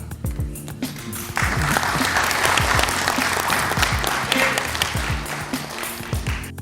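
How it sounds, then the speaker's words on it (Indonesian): Members of Indonesia's DPR parliament break into applause in a hearing room, a sudden swell of many clapping hands that starts after a moment of talk and continues steadily, with low voices murmuring underneath. "anggota DPR sontak tepuk tangan"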